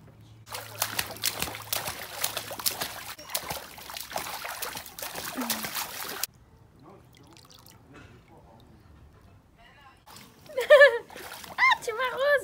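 Warm water splashes and pours onto a person during a home bath, wet splatter and trickling at close range under steady talk, then a quieter dripping stretch and livelier splashes with voices near the end.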